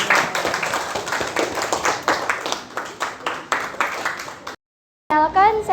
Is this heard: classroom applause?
yes